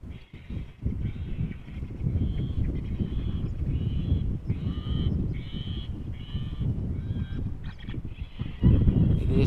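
Loud, repeated squawking crow-like bird calls blaring from a bird-scaring loudspeaker at Amsterdam Schiphol Airport, over a steady low rumble.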